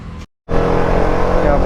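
Heavy road traffic on the approach into Chennai, a loud, steady engine roar and rumble that drops out briefly near the start, then returns as a continuous dense drone.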